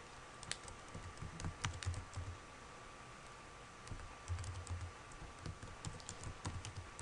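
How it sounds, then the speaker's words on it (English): Computer keyboard keys tapped out in uneven bursts while an email address is entered for Gmail forwarding setup, close and fairly quiet with short pauses between clusters of clicks. "So let's type one address that"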